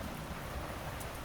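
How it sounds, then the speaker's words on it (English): Loud rain pours steadily during a blackout, a dense even hiss of rainfall on surfaces, constant and close with no voices. "The rain is still loud."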